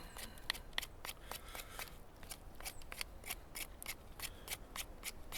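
An OffGrid SideKick knife slices through wood in a quick series of sharp, dry scraping strokes, fairly close and evenly paced, with no talking over it.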